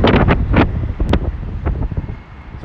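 Heavy wind gusts buffet the microphone on a rainy day near Waterloo in London, making a loud, uneven roar with sharp bursts.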